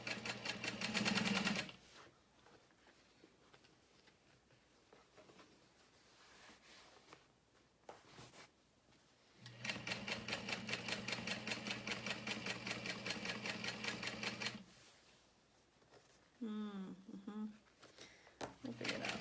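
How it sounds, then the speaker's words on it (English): A sewing machine top-stitches a reverse-appliqué tote bag close to a seam edge, whirring in three long bursts separated by pauses. A voice speaks briefly between runs. "I'm going to top stitch using a 5"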